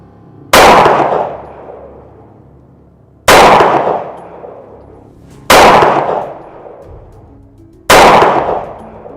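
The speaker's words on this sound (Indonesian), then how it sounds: "Kita coba tembakan terlebih dahulu." Four loud, sharp shots from a Pistol 07 handgun spaced a couple of seconds apart, each ringing out with a decaying echo.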